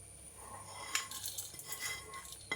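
Metal utensils clink and scrape against a vessel as a coconut-spiced mixture for millet roti churumuri is transferred, quiet close taps and scrapes in a soft cluster.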